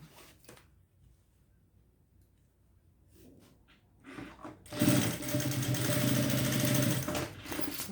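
A sewing machine runs a fast continuous stitch along the strap of a blue thermal backpack, loud and steady for about three seconds after a few quiet handling noises and light taps.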